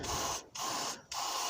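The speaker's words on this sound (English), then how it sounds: "I'm gonna spray some more in there" Lubricant sprayed from an aerosol can into a seized engine cylinder: two loud, sustained hissing bursts, each split by a brief pause, close to the microphone with no talking.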